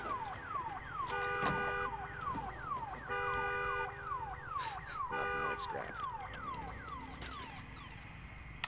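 A car alarm in Days Gone cycles through repeating whooping and warbling siren patterns, loud and continuous, with bursts of other game noise mixed in.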